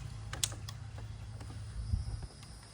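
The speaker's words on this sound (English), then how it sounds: "Hold this nut with this wrench, put this one on here, torque it down." An axle nut on a heavy-duty dolly for moving a hot tub is held with one wrench and torqued down with another, giving faint metallic clicks and taps, a few creaks and a soft thud near the end.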